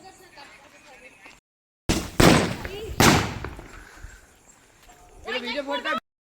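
Diwali firecrackers burst in two loud close bangs, each followed by crackling decay, after a faint quiet stretch; people talk and shout afterward.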